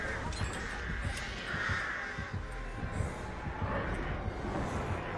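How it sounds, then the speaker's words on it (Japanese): Crows caw repeatedly in the video game Dead by Daylight, a steady chorus of harsh calls over a dense, continuous game background with low thumping. "カラスだらけなんだけど。"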